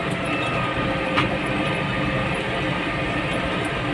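A steady, low tractor engine drone runs throughout, idling and rumbling nearby with no pauses or talk.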